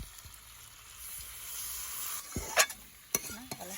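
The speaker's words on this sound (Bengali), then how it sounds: "মাংসটা আমি ঢেকে ঢেকে 2-3 বার কষে নিয়েছি" Chicken curry meat being stirred and fried with spices in a pan, a steady soft sizzle with a few louder scraping stirs near the end, close and without talk.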